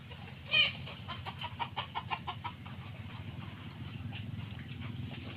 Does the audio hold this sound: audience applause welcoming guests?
no